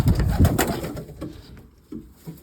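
Soft, low pigeon coos repeat in a close, murmuring cluster, then a few quieter coos follow after a brief lull.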